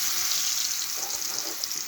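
Jackfruit seeds sizzle steadily in hot oil in a kadai, a close, continuous hiss and crackle with no talk.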